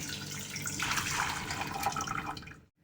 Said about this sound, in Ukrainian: Зливаємо воду і на цій воді будемо готувати маринад.